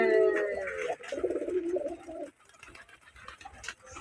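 Paired racing pigeons coo in low, rolling bursts close by for the first couple of seconds, followed by fainter bird calls and light rustling.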